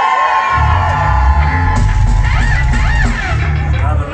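Women in a concert crowd at Manchester Academy cheering and screaming loudly, a sustained, dense roar of high-pitched yells with low rumbling underneath.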